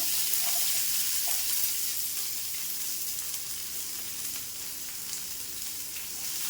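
Chopped big onions frying in a pan while making a tangy brinjal tamarind curry, a steady close sizzle with faint stirring scrapes throughout.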